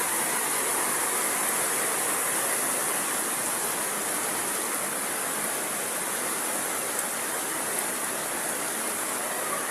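Floodwater flowing during a typhoon, heard as a constant, dense rushing roar like a strong stream, steady and close with no voices over it.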